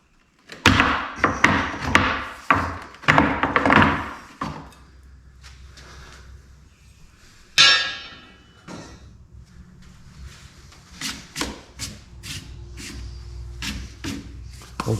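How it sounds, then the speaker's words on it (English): Rack being pulled off a 4-wheeler after its bolts are removed, a series of close clunks, thumps and scrapes followed by a sharp rattle and lighter scattered knocks. "now we can go ahead and take our rack out."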